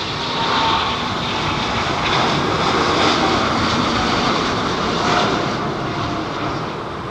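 A Qatar Airways Airbus A350 arrives at Heathrow with a loud, continuous engine roar that swells and eases slightly as it passes close by, with no voices.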